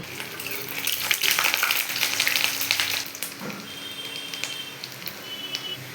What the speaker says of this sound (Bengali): তেল আমার গরম হয়ে গেছে। এরপরে এর মধ্যে আমি দিয়ে দেব রসুন আর আদা কুচি।